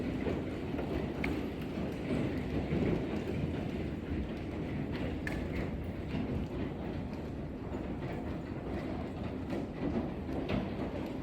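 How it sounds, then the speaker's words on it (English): Rain falls steadily and densely during a May hail storm, a constant hiss with scattered sharper pattering impacts, heard outdoors with no talking. "at least we're getting some rain out of it now"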